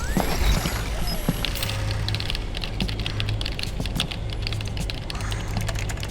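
Rapid clattering keyboard typing from the video game Metal Gear Solid 4, dense continuous key clicks over a low droning background hum and music, close and fairly loud, with no talking.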